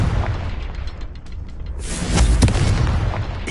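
A Confringo explosive spell goes off in a wizard video game, starting with a low rumbling buildup and then breaking into a loud, sustained blast with crackling debris.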